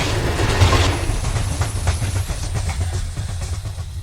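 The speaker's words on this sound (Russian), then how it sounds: "Сначала нужно пропустить утренний товарный поезд." A morning freight train rolls past near a forest, a heavy low rumble with rhythmic clatter of wheels, steady and fairly loud, slowly fading toward the end.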